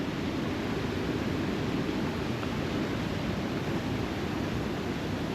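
Creek water flushing past and bumping against a log on an off-trail hike near Ohio waterfalls, a steady, close, broadband rush and gurgle that holds even throughout with no talk.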